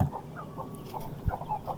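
23-day-old chickens clucking softly nearby, short scattered clucks over a quiet background with a brief thump.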